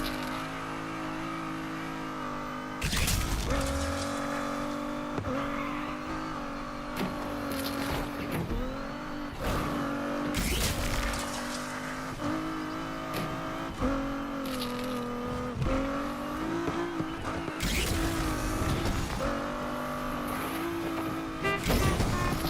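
A BMW M3 GT races in Need for Speed Unbound, its engine roaring loud and steady as it revs up and down through gear shifts, with sharp bursts and tire noise breaking in at intervals.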